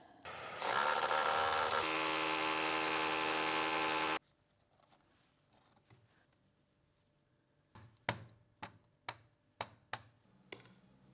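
A power drill whines steadily for several seconds drilling holes in a wall, then stops; a series of sharp taps and knocks follows at close range.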